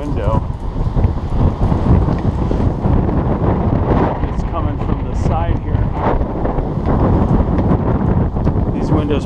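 Strong wind buffets a rain-wet window in a steady, loud roar with gusty rumble, continuous throughout with faint speech mixed in.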